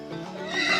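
A horse gives a short, loud whinny that rises in pitch at the end, heard up close.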